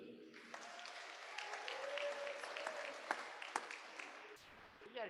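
Crowd cheering and clapping ring out for a graduate at a college commencement ceremony, sustained applause with a few sharp claps and shouts spread across a large hall.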